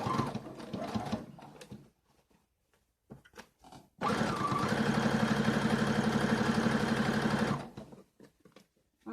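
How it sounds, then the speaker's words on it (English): A sewing machine runs a back-and-forth stitch on a jacket: brief stitching, a pause with small clicks, then a steady close whirring run of about three seconds before stopping. "I'm going in and I'm doing the back and forth stitch."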